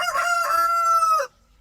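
A rooster crows once, close and loud, a single drawn-out call that cuts off sharply into quiet.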